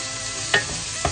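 Carrot pieces added to a sizzling pan, giving a steady low hiss of frying with two quick scraping knocks.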